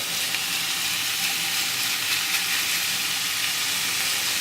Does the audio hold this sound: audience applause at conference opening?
no